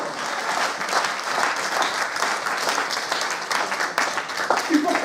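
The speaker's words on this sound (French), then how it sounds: "Il faut l'acclamer si tu crois." A church congregation at a French-speaking worship service in Cergy claps and cheers in steady, dense applause, with voices rising through the crowd noise.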